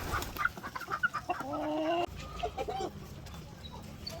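Upgraded native chickens cluck and squawk nearby in short bursts, with one longer drawn-out call in the middle and scattered soft fowl chatter around it.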